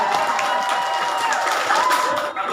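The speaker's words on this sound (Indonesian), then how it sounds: "Tepuk tangan Ibu." Women in a Maulid gathering audience applaud in a continuous burst of clapping, fairly loud and dense, with a voice faintly mixed in.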